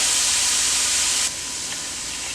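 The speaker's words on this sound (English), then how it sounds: "go ahead and get your onions caramelized like mine" Onions caramelizing in a skillet with oil, giving a steady, loud broadband sizzle and hiss that drops slightly in level partway through and then continues evenly, with no voices.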